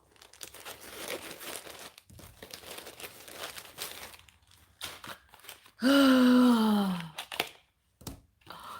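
A plastic package is crinkled and worked at by hand, with close, irregular rustling and crunching for several seconds, then a person lets out a short, drawn-out vocal groan before more faint crinkles.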